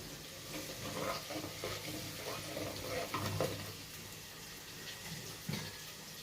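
A paste of onion, ginger, garlic and dried chili frying for methi mutton: a low, steady sizzle with repeated stirring and scraping scuffs in a pan, close but quiet, and no talking.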